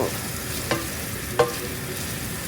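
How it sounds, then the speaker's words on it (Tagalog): Ginger and garlic sautéing in a pan give a steady low sizzle, broken by two brief utensil clinks as they are stirred, with no one talking. "inigisa po ako ng luya na may bawang"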